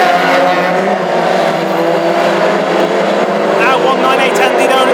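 Classic hot rods race nose to tail down the home straight of a short oval, a dense, loud roar of several engines with tyre noise, under an excited commentator's voice.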